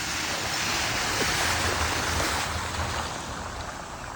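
A vehicle drives through rainwater on a flooded road during a storm, a steady loud wash of splashing water and rushing spray that fills the whole stretch with no break.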